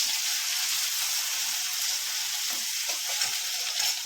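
Tomato, green chili and curry leaves fry in hot oil while being stirred, a steady, loud, close hiss of sizzling with faint scraping stirs underneath.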